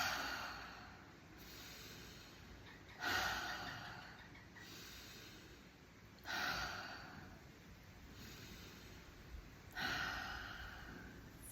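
During a meditation, slow breaths recur in a steady rhythm, with three louder exhalations spaced several seconds apart and quiet pauses between them, close and soft.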